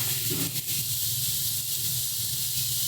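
Green chili paste hisses and sizzles steadily in a pan of fried onions, a constant close frying noise with a couple of faint clinks near the start.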